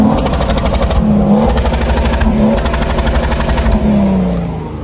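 Loud, close engine of a modified luxury vehicle, a Land Cruiser LC300 or Ford F-150 Raptor, revving in bursts with a rapid rattling, machine-gun-like pulse that rises and falls across the stretch.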